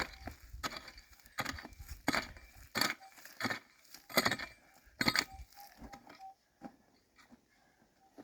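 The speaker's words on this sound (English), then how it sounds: "So give this a good hack now and down into the slate now" A pick hacks down into slate bedrock while digging for gold, giving a series of sharp, irregular impacts with scraping and crumbling rock, fairly close and unaccompanied by talk.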